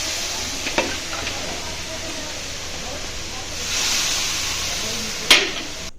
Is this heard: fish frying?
yes